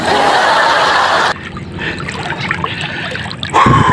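Water trickles and splashes as someone wades across a river in the sea shallows, a broad steady wash giving way to quieter sloshing and dribbling, then a brief louder surge near the end.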